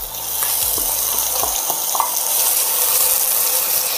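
Chopped onions sweating in melted butter over lowered heat, giving a steady soft sizzle with a few clinks from stirring near the start, close and fairly loud, with no talking.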